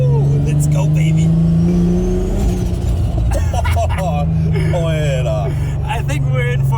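A 1300HP Nissan Patrol's engine runs loud and close at a winter racing event, a heavy droning hum that briefly climbs in pitch, while people talk over it.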